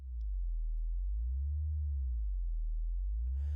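Lo-fi lead synth tone built in Reaktor Blocks with an LFO patched in, a low, steady hum whose level pulses up and down in a regular wobble, close and alone.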